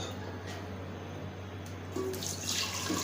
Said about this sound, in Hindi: तो चलिए सबसे पहले हम इसके अंदर दूध शामिल करते हैं।